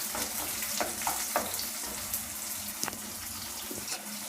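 Onions sauté in a pan for Tamil muttai kulambu, a quiet steady sizzle with a few soft clicks and taps from stirring, and no voices.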